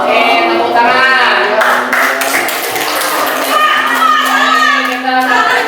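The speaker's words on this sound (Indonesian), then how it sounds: "tepuk tangan" Children in a classroom clap together after a lesson on Indonesian national awakening, close and loud rhythmic clapping mixed with kids' voices and chatter throughout.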